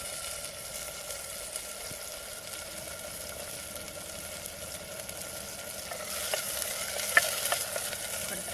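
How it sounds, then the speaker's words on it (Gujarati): Salted onion fries in a pan in a village kitchen, giving a quiet, steady sizzle, with a few sharper stirring scrapes and clinks toward the end. "થોડીક પછી સડવા દઈએ એમને એટલે સડી જાય ડુંગળી"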